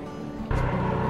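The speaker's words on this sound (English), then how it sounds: "Our gardens are getting tilled, if that's the noise you're hearing in the background." A garden tiller's engine runs at a low, steady rumble, then grows louder and fuller partway through, staying as a continuous mechanical drone in the background.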